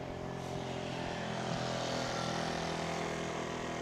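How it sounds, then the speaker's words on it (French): A small scooter engine drones steadily and fairly loudly as it passes, a continuous buzzing hum that holds level throughout with no voices over it. "Petit scooter."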